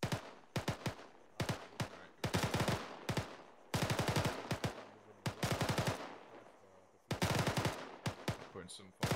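Squad training gunfire comes in repeated bursts of rapid automatic shots separated by short pauses, sharp and fairly near, with faint voices in the background.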